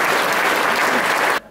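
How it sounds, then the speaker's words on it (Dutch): Applause for Marco Derks, dense steady clapping from a crowd that cuts off abruptly after a second and a half. "Groot applaus, Marco Derks"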